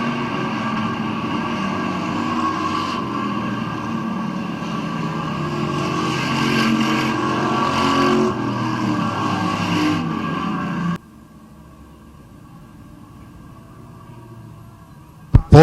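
Street stock race cars roll toward the starting line at Midvale Speedway, a steady, loud engine rumble for about eleven seconds that then drops to a quieter hum before a brief loud burst at the end.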